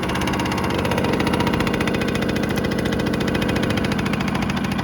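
A 1987 Yamaha YSR50 two-stroke motorcycle engine runs steadily and up close, a loud continuous buzzing rattle with a fast, even pulse and no voices.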